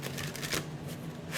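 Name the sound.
tarot cards being shuffled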